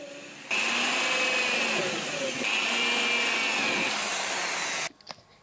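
A power drill whines loudly in two long bursts with a high grinding tone, drilling holes in an aluminium profile, then switches off, leaving a few faint clicks.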